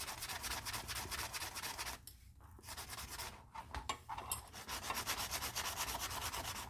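Close rhythmic scratchy rubbing as the edge of a leather item is sanded, with a quick back-and-forth stroke pattern and a couple of brief pauses, quiet and without speech.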